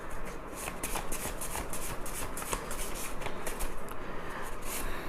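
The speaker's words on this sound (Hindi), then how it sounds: "शफल द कार्ड्स थोड़ा और।" Tarot cards are shuffled close by in a continuous run of papery riffling and soft slapping strokes, steady and unbroken for several seconds.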